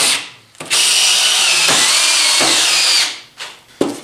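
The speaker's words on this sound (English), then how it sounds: "just getting some screws in here" Loud, close power drill whirring as it drives screws into a metal-shaping hammer form: one sustained run of a couple of seconds, then two short bursts, with no talking.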